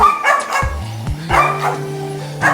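A dog at a temple animal shelter gives several loud, close barks and yips in short bursts, with a brief whimpering tone between them.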